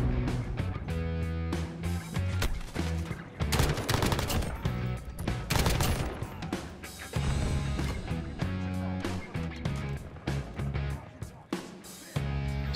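Kilo 141 rifle firing in a video game, loud close bursts of rapid automatic fire rattling almost continuously with brief gaps, layered over a steady tonal backdrop.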